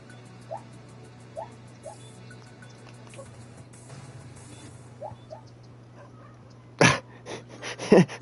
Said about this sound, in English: One of my chihuahuas is over there having a little dream that it's chasing something. You hear these little yips coming out of under my covers